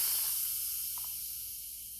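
An Instant Pot pressure cooker, used for an asparagus chicken dish, vents steam in a steady, loud, continuous hiss that holds for the whole stretch and fades only slightly toward the end.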